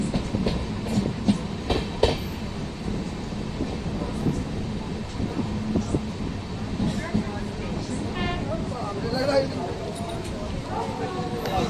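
An Amrit Bharat Express train running into Barddhaman Junction station, with a continuous rumble and rattling clatter of rail cars and occasional squeals as it slows, while people talk over it.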